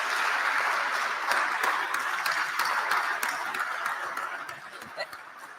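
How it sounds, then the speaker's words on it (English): An audience at a presidential benefit gala in New York applauds after a speech, a dense, even burst of clapping from a large room that slowly fades, with a few scattered laughs. "A big round of applause for His Excellency, Mr. Hakainde Hichilema."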